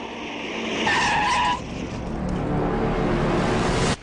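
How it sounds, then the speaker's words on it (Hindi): A car's tires screech and skid on a rough village road as it gets stuck in a pothole, two loud sustained squealing bursts over a droning engine, then a sudden cutoff. "लगता है गड्ढे में फंस गई गाड़ी।"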